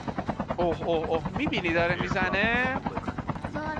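A helicopter in the mobile battle royale game PUBG Mobile whirs with a steady rotor chop under excited talk from players.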